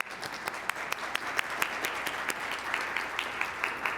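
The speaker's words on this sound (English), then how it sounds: "You can give a round of applause." A luncheon crowd at a civic club forum gives a round of applause, dense sustained clapping from many people with sharper individual claps popping out, continuous for several seconds without speech.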